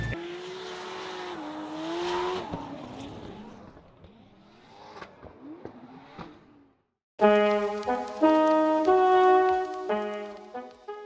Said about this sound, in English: ODI Bakchis leads. Dean Carney and his Viper giving chase.